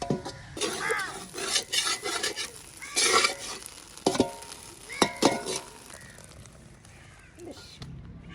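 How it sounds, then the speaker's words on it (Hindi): Milk kept boiling in a kadhai is stirred with a spoon, giving repeated scraping, clinking strokes against the metal over a soft bubbling sizzle, close and fairly loud, with brief pauses. "इसी तरह मैं हिलाती रहूँगी"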